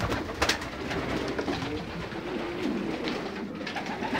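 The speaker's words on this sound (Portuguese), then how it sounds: "A pombada tá toda mudando aí, mas são muito bonitos os pombos." In a breeding loft, male pigeons coo softly and keep it up, low and steady under a faint background hiss. A few short clicks or wing sounds are scattered through it, and nobody speaks.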